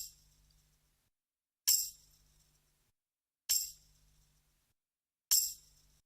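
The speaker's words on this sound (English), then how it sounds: "So here's what the tambourine sound like." A tambourine sample in a trap beat strikes four times at an even, slow interval. Each hit is a bright, jingly metallic shake that rings briefly and decays. A faint low tone sits beneath, and the sound is quiet and clean with no talk.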